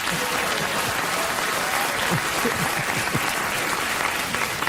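Late-night talk show studio audience applauding, a continuous, fairly dense wash of clapping at moderate loudness with faint low vocal sounds mixed in.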